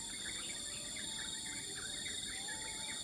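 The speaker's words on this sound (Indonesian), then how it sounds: "Setiap pagi kita dinyanyikan lagu oleh burung-burung yang berkicau di hutan" Morning forest ambience with a steady high insect drone and scattered faint bird chirps, continuous and distant with no voices.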